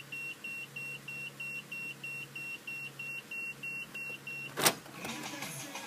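A steady series of short electronic beeps from a Toyota Sienna's aftermarket backup parking sensor repeats at an even pace, faint and mid-pitched, then stops abruptly with a brief clunk near the end.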